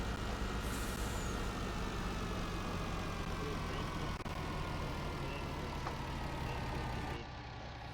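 A small farm truck's engine runs steadily and close by on a farm yard, with a low, constant rumble and faint hiss throughout, easing off slightly near the end.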